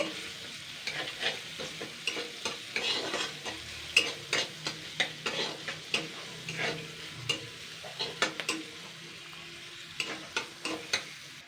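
Chopped onion with split dried red chilli fries in a pan with a constant sizzle, while a utensil stirs it in repeated scraping strokes, close and clear with no talking.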